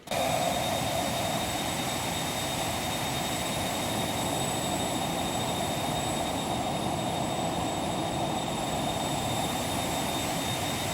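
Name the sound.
Phenom 300 jet engine noise at flight level 400, X-Plane 11 video game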